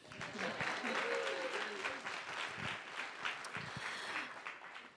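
A Sundance Film Festival Cinema Café audience breaks into sustained applause, a full, even roar of many hands clapping that swells early and then tapers slightly, with faint voices underneath.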